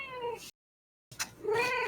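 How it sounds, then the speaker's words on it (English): A cat gives two drawn-out, wavering meows separated by a brief silent gap, close and fairly loud. "Come here, little kitty."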